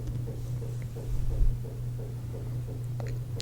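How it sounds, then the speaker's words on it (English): A washing machine runs in the background as a low steady hum with a faint rhythmic throb, soft and continuous under a quiet whisper. "I can hear a washing machine"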